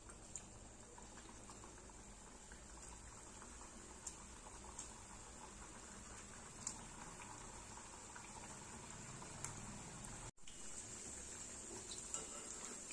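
Kapnya pastries frying in hot oil in a kadhai: a steady, fairly quiet bubbling sizzle that holds even throughout, with a brief dropout near the end.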